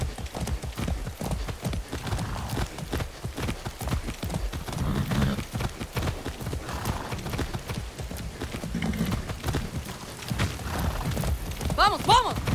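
Horse hooves clip-clop steadily on the ground in the Far Cry 6 video game, with rustling and background game ambience throughout and a brief whinny-like tonal sound near the end.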